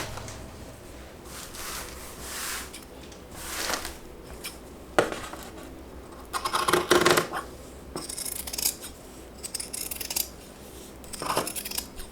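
Scissors snipping through a piece of raffia, with several crisp cuts and rustling of the material at close range and no talking.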